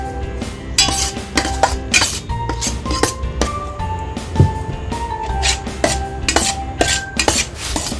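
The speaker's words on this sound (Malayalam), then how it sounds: "തിളച്ചുകൊണ്ടിരിക്കുന്ന വെള്ളം ഒഴിച്ച് ഇത് നന്നായിട്ട് കുഴച്ചെടുക്കാം." Rice flour dough with coconut oil is mixed with boiling water for mango ela ada, giving close, irregular clinks and scrapes of a utensil against a bowl in quick, uneven bursts.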